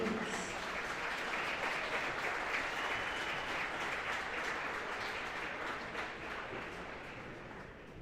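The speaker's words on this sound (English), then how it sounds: "let's have a nice round of applause for all of our girls basketball seniors" A gym crowd applauds the girls basketball seniors with sustained, dense clapping that holds steady for several seconds, then slowly thins and fades toward the end.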